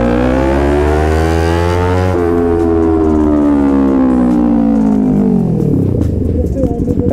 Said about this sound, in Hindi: कावासाकी 250 cc पे, इसका एग्जॉस्ट देख लो कितना लाउड है यार।